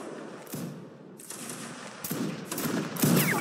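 Line infantry in a video game fire musket volleys: four ragged, crackling bursts of gunfire come about a second apart and grow slightly louder, with a faint echoing tail after each.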